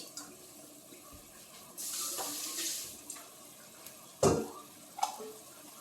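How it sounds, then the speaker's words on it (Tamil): Water trickles and splashes briefly into cooking beans, with a short gush around the middle and a couple of small clinks near the end, fairly quiet overall. "லேசாக கொஞ்சம் தண்ணி ஊற்றி"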